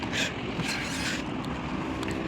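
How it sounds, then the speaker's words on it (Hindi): A tractor engine straining in reverse while hauling an overloaded trolley, a steady low rumbling drone with some wind noise on the microphone and no speech. "चलो थोड़ी पावर बढ़ा के लेनी पड़ेगी, और ये फाइनली ट्रैक्टर सीधा हो गया"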